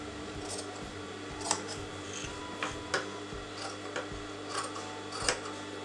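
Scissors snip through fabric inside a canvas neckline, giving a series of short, irregular cuts over a steady low room hum.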